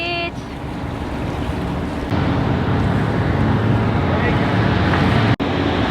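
A sailboat with its mainsail up moves out from West Palm Beach. Steady, loud wind and water rush fill the clip, with a brief rustle near the start and a sharp cutout just before the end.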